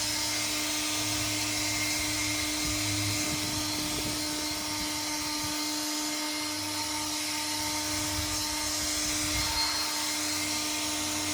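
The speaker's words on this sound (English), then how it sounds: "once you've got a very small layer of snow, you can pretty easily blow it off of the windshield and the window wipers, as I'm just doing here" A RIDGID air blower clears snow off a car windshield and wipers, running as a steady loud whine with a constant drone throughout, close by and without speech.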